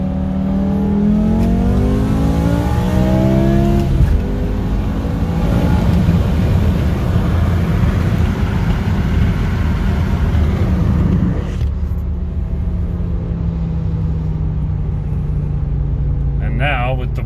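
A 2010 BMW E60 M5 with no catalytic converters, an X-pipe and stock mufflers accelerates hard, its exhaust rising in a loud, climbing howl through the gears before easing off to a lower drone.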